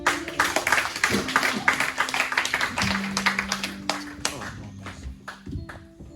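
A church congregation claps in praise of God, a dense run of rhythmic handclaps under sung or spoken worship voices, with sustained musical tones underneath throughout.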